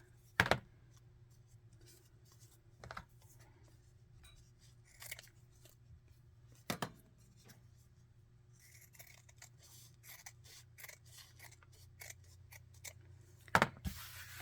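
Scissors trim the edges of washi tape in a quiet room: a handful of crisp, close snips spaced a few seconds apart, with soft rustling of tape and paper in between.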